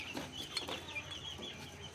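Young chicks from a first batch of farm-raised chickens peep and cluck softly in quick, overlapping calls, faint and fairly close, with no talking.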